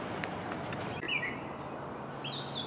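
A little bird high overhead gives a few quick, sharp chirps and squeaky calls, moderately faint against a steady outdoor wash of background noise.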